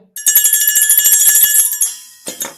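A bright bell rings rapidly for about two seconds, a fast trill of strikes, then two softer, lower knocks follow alone.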